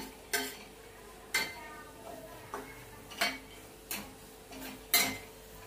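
A spoon scrapes and clinks against a pan while mahadya is sautéed over a low flame, with about six distinct metallic knocks spaced roughly a second apart above a faint, quiet background.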